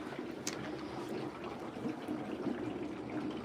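Water running steadily into a soapy mixture, a soft continuous pour with faint splashes and gurgles, fairly quiet and with no talking over it.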